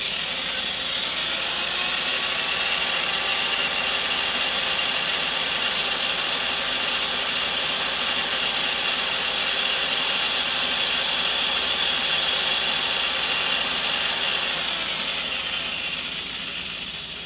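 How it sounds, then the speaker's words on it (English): Sandpaper wrapped on a round mandrel sanding a wooden fence post, a steady continuous hiss with a high whine that holds for about fourteen seconds and then fades, loud and close with no talk. "It's a square square piece of sandpaper on a round mandrel."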